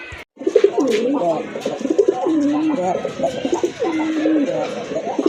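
A pair of sky-blue Rajgolla pigeons coo close by, their repeated throaty, wavering calls rolling on continuously and filling the space at a steady, fairly loud level.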